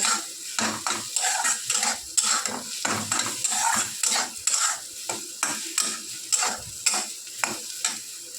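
A paste of cumin, chilli, ginger and coconut is stirred in a hot pan, with close, rhythmic scraping strokes over a crackling sizzle, repeating roughly every half second and no voices.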